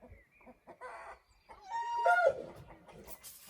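Chickens cluck and a rooster lets out a crow nearby, with scattered clucks around it in a quiet setting.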